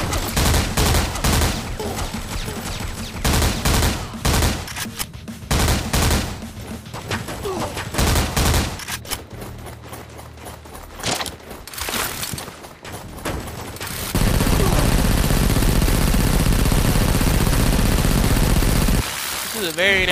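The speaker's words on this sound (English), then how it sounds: "This is a very inaccurate chain gun," Rapid chain gun fire in a Foreign Legion: Buckets of Blood shooter game, loud bursts of dense automatic shots broken by short pauses, then a long unbroken stretch of steady roaring fire near the end.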